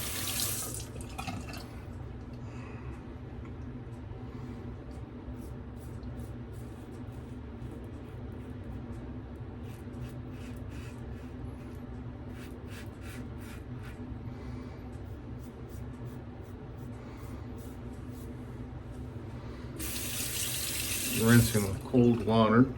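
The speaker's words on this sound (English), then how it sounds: "Rinsing with cold water." Cold tap water runs steadily into a bathroom sink for a long stretch while a man rinses his face after shaving, with splashing and hand sounds growing louder near the end.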